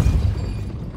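A Depulso spell cast in the Hogwarts Legacy video game lands as a single short, loud, low boom-like burst that fades quickly.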